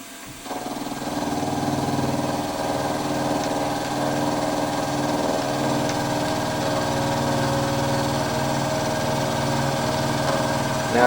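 Steady mechanical whir of a machine squaring the ends of freshly sawn metal hinge parts, starting with a brief spin-up and then a constant droning hum at moderate level throughout.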